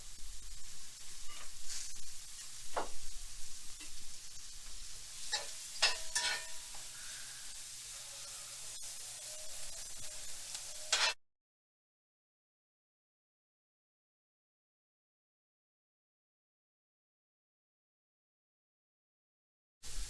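Shallots and a knob of butter sizzle softly in a pan for a mushroom shallot sauce, a steady faint frying hiss with a few stirring clicks, cutting off abruptly after about eleven seconds into silence.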